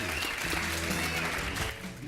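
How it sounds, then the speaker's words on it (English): A conference crowd claps steadily in a dense, sustained round of applause for a panel, tapering slightly at the end. "Please give them another round of applause."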